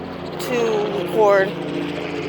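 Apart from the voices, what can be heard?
tour helicopter flying past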